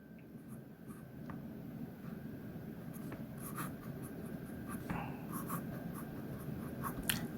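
A pen scratches across paper while someone works out a continuity-of-functions math problem by hand: steady, close scraping strokes with brief taps and pauses, no voice.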